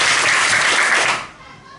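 Children in a classroom counting game clap their hands together, a dense, loud burst of clapping that holds for about a second before fading away.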